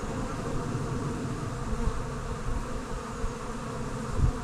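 Honey bees buzz steadily around an apiary hive during a split for swarm prevention, a dense close drone that continues without a break, with a few brief knocks.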